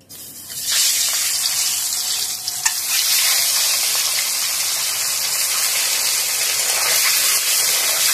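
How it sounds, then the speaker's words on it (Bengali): Eggs fry in hot oil for a potato-and-egg curry, giving a loud, steady sizzle and crackle that runs unbroken, close up, with no voices. "তেল গরম হয়ে গেছে, এবার ডিমগুলো ভেজে তুলব।"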